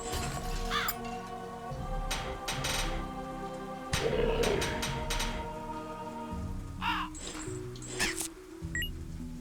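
Birds caw harshly in the indie side-scrolling game Toziuha Night: Dracula's Revenge, with several sharp repeated calls scattered over busy game music and effects.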